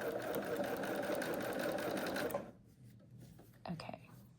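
A sewing machine stitching quilt fabric for a four-patch block runs in a steady, close whirring burst for about two seconds, then stops, followed by quieter handling sounds.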